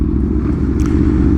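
Honda CB1000 motorcycle with an aftermarket exhaust, its engine giving a steady, loud, deep rumble that holds without a break.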